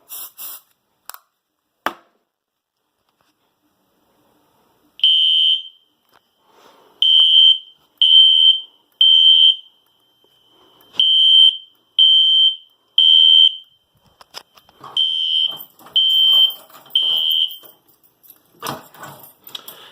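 A fire alarm system set off by triggering a Simplex smoke detector sounds a loud, piercing tone in repeated bursts, with about ten evenly spaced beeps and a few clicks and handling noises before and after.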